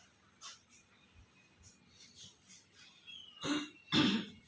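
A child coughs indoors, starting with a few faint throat-clearing sounds and then giving two loud, harsh coughs close by near the end.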